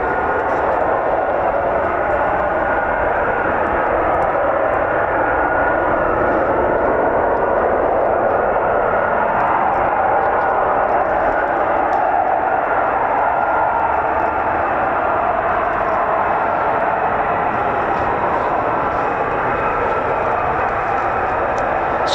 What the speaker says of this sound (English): So the F-35, 5th generation fighter, stealth fighter may I add